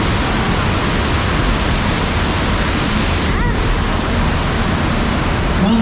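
Simulated earthquake and flood effects on the Universal Studios Hollywood tram ride: a loud, steady roar of rushing water and rumble fills the whole stretch, with a brief swooping tone midway.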